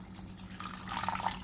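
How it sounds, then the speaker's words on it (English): Vegetable broth is poured into a pan over a low flame, a short, close run of liquid splashing and trickling that grows slightly louder toward the end. "I'm also going to be adding some vegetable broth that you would have seen earlier."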